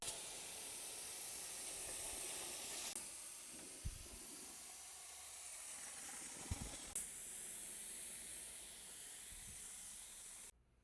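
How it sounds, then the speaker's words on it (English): An air compressor runs steadily in a bodywork shop, a constant broadband hiss filling the background throughout with a few faint low knocks and thumps, and no talking. "we also have the compressor on doing the background noise"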